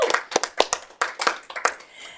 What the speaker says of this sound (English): let's give them all a round of applause at the end of the year.